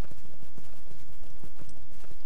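Horse hooves clip-clopping in the online game Lord of the Rings Online, a steady rhythmic trot of hoofbeats close up and fairly loud, continuing throughout.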